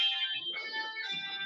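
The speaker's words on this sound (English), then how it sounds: "Someone's phone just went off." A mobile phone rings at a turf racetrack with a shrill, alarm-like electronic tone that pulses continuously under nearby talking.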